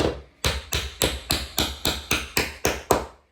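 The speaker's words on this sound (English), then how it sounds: "Just punch it through the other side with something like a small screwdriver or something, just to pop it out." A small screwdriver drives a pin out of a 3D printed plastic gun stock: about ten sharp, evenly spaced taps, close and fairly loud, with nothing else heard.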